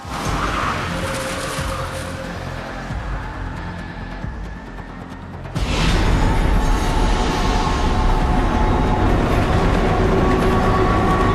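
A train in a movie scene rumbles past on the main line, a steady mechanical roar that jumps suddenly louder halfway through and stays heavy, with no voices.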